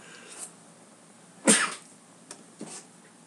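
A single sharp sneeze bursts out nearby, loud and abrupt, followed by a couple of faint breathy sounds in an otherwise quiet room.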